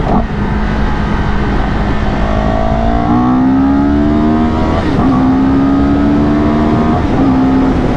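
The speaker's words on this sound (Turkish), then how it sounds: "Ses güzel, egzoz sesi çok iyi geliyor." A CFMOTO 700 CL-X motorcycle engine drones steadily with its exhaust note rising and falling through gear changes, close and continuous for the whole stretch.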